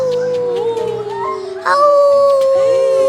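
A child imitates a wolf howl with a long, rising and wavering drawn-out vocal tone, loud and close, in a playful children's story setting with a birthday party.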